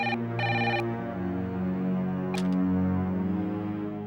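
A telephone ringing while a call is placed to someone, two short bursts of ringback tone near the start followed by a brief beep, against background music.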